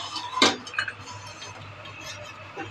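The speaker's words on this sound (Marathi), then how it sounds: "आता झाकण काढते याचं." A single sharp metallic clink as a lid is lifted off a pan while khapar poli cooks, followed by a couple of softer taps over a quiet low hum.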